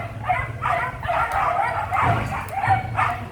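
Dogs in a temporary shelter van set up for fire victims in Cubao, Quezon City, give repeated yips, whines and short barks at close range, nearly continuous over faint background noise.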